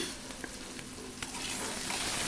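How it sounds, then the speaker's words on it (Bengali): Potatoes fry in refined oil seasoned with turmeric and salt, giving a steady, dense sizzle with occasional stirring scrapes, close and continuous, with no voices. "এর মধ্যে আলুগুলো আমি ভেজে নেব"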